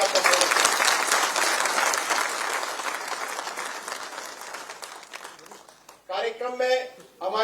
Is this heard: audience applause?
yes